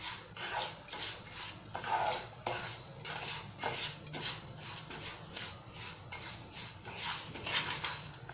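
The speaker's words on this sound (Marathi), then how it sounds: "छान परतवायचं आपल्याला।" Sugar is stirred in a pan while making mango sheera, a spoon scraping against the metal in repeated rhythmic strokes about once a second, close and moderately quiet with no voices.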